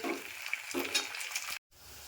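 Curry leaves crackle and sizzle in hot oil over pink-fried onions for a Malvani chicken liver masala, a steady close frying hiss with stirring that cuts out abruptly near the end, then resumes more quietly.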